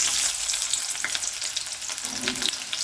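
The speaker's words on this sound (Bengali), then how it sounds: "তেলটা গরম হয়ে গেছে, পেঁয়াজ কুচানো দিয়ে দেবো," Chopped onions hit hot mustard oil in a wok, a close, steady sizzle and crackle of frying with no voices.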